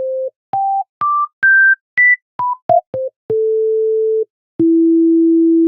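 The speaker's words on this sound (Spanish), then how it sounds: "La onda senoidal." A sine wave played in FL Studio through the Fruity Convolver with a guitar cabinet impulse: clean, pure tones step upward in short notes, fall back down, then settle into two long sustained tones, loud and alone.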